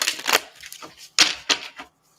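Several quick riffling bursts of playing cards being shuffled, crisp and close, with short pauses between them.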